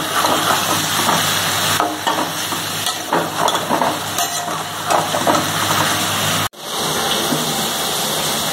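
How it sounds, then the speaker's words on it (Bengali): Soya chunks fry over raised heat in a pan, a loud close sizzle with bursts of scraping as they are stirred, then a brief cut and the sizzle continuing steadily on its own. "এবারে সয়াবিন ভাজা ভাজা করে নিচ্ছি।"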